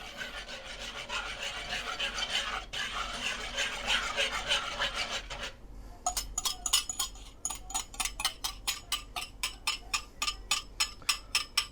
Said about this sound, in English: Continue stirring until this thickens up.